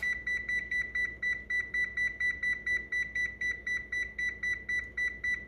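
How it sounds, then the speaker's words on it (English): A kitchen timer being set while cooking, giving a rapid, steady run of sharp electronic beeps, about four or five per second, loud and close with no talk over it. "So I'm going to put my timer on for"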